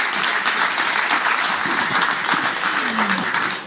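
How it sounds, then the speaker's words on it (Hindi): Loud applause breaks out from an audience at a live Delhi political talk event, thick continuous clapping that tapers slightly at the end, with faint voices underneath. "एक बार जोरदार तालियां बजा दीजिए।"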